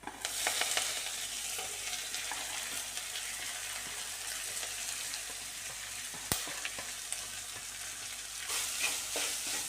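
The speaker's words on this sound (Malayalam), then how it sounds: "ചേർത്തിട്ടൊന്ന് നന്നായി ഇളക്കാം" Brinjal stir-fry ingredients, with fried chillies, sizzle steadily in a pan while a spoon scrapes and stirs through them, close and continuous with a sharp clank partway through and no voices.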